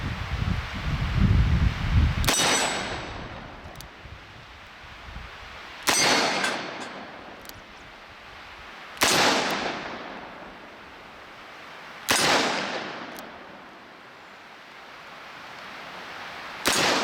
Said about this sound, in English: we're going to shoot 357 in the White Rhino